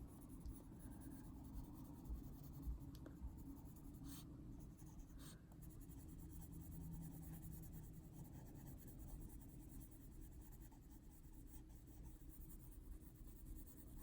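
Colored pencils shading on paper while coloring a face in an adult coloring picture: a faint, steady scratchy rubbing that continues quietly throughout, with no voices.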